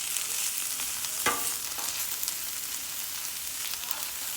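Kale and walnuts fry in a pan, giving a steady, bright sizzle with a brief stir or crackle partway through, close and continuous with no talking.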